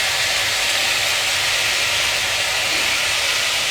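Banana blossom (puso ng saging) sautéing in a pan, giving a steady, loud broadband sizzle and hiss that holds without a break, with no talking.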